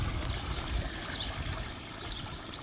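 Water keeps moving in a backyard pond feature, a steady close trickle and splash running without a break and with no voices.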